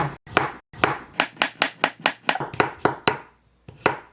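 A knife chopping garlic cloves into slices on a cutting board, a quick, regular run of about a dozen close, crisp thuds with short pauses.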